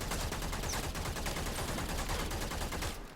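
Rapid automatic assault rifle fire in the video game Warframe, a dense, continuous burst of loud, close shots lasting about three seconds before cutting off.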